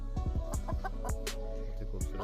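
Heavy Buff chickens cluck steadily at a poultry farm, with a run of close, repeated clucks and calls from several birds against constant low background noise.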